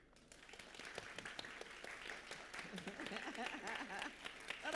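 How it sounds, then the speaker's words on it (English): Audience applause at a design show talk, a strong sustained round of many hands clapping that builds slightly in loudness across the clip, with no speech over it. "give me a really strong round of applause for just being here"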